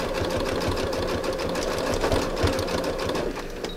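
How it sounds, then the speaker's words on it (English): A sewing machine runs steadily, stitching through fabric-covered rope to finish the last couple of inches, with a continuous close motor hum and rapid needle rhythm throughout. "I just kind of fold them under and finish stitching that last couple inches."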